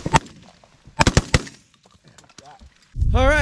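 Shotgun blasts ring out on a goose and duck hunt in Alberta: a single sharp shot, then a rapid cluster of three or four more, with voices speaking between and after them.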